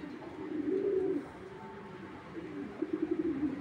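A female racing club pigeon coos close by in two short, throaty bursts, one early and one near the end, against quiet background noise.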